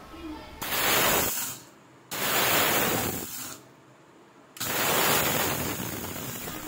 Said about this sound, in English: So I'm just using the small jar of the mixer grinder and adding the chana dal first.